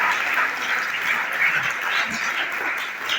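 An audience applauds after a paper presentation on youth in crisis, giving dense, steady clapping from a crowd in a hall that holds at an even level throughout, with faint voices mixed in.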